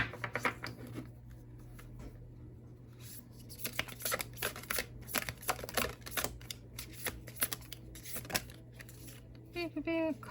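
A tarot deck is shuffled in rapid clusters of crisp card riffles and flutters, close and fairly quiet, over a steady low hum.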